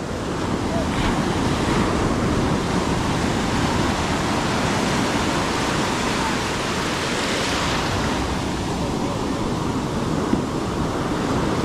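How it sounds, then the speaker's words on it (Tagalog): Large ocean waves crash and roar continuously against the shore, loud and close, with wind gusting over the microphone. "Kalalaki talaga ng alon dito sa tabihan."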